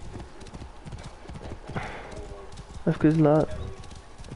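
Horse ridden in Assassin's Creed Origins, galloping hooves clip-clopping in a quick rhythm, then a short loud neigh near the end, with a person speaking briefly over the game sound.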